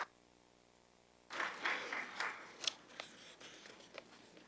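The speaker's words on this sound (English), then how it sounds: "Honorable members, you must clap hands for them until they reach the podium." Members of a women's sectoral parliament break into applause on Women's Day, clapping starting abruptly after a quiet hum, moderately loud and uneven with scattered sharp claps, fading somewhat toward the end.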